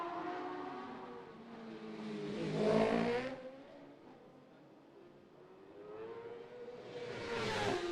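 A racing motorcycle in practice for the Macau Grand Prix street race, its engine note swelling loudly as it passes, then dropping away as the rider shuts off the revs for the bends, before rising again.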